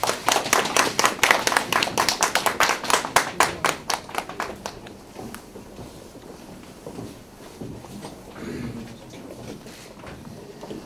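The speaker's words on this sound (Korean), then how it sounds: "큰 박수로 맞이해 주시기 바랍니다." Applause welcoming a party leader at an industrial complex meeting, a burst of distinct rhythmic clapping that fades after a few seconds into quiet room noise.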